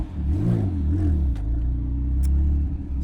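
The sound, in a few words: 1000hp 9ff Porsche Turbo engine revving loudly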